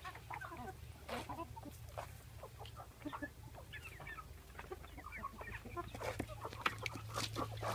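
Several chickens cluck and chatter in irregular bursts close by in a coop, with a steady low hum running underneath.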